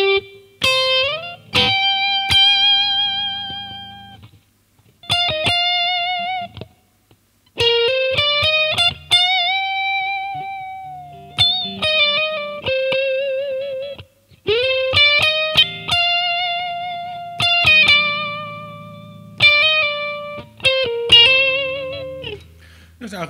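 Lead electric guitar playing the second part of a guitar solo, a sustained, rising melodic line of held notes with vibrato and short phrases separated by brief gaps, close and clear with no accompaniment or talking.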